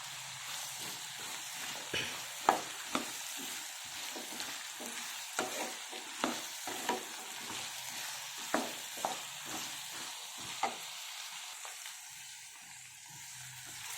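Ginger garlic paste and other ingredients fry in a pan for a tomato bath dish, with a steady hiss broken by repeated sharp scraping stirs; no talking.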